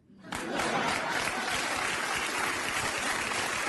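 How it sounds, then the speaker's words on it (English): A crowd breaks into loud, steady clapping that swells quickly within the first half second and then holds as a thick, even wash of applause until the end. "The crowd clapping always just gets me mad."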